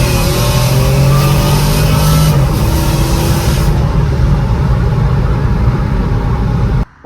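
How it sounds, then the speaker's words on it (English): A Mercedes C32 AMG with a 63mm supercharger pulley roars hard through a second gear pull, the engine loud and close with rising revs before the sound cuts off abruptly at the end. "Let's do a second gear pull."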